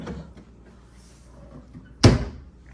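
A hotel room mini fridge door in a Disney's Yacht Club Resort lake view room shuts with one sharp close thump after quiet handling, nearby and alone.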